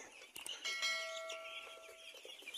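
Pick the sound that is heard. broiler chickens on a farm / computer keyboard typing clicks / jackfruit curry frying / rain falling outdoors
broiler chickens on a farm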